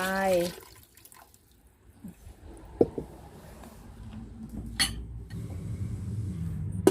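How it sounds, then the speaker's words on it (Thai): Water used to rinse a stone mortar is poured into a pot of spicy Thai jungle curry with green peppercorns. Soft trickling and a few light clinks build gradually in a quiet kitchen after a brief voice at the start. "ใส่น้ำล้างครกลงไป"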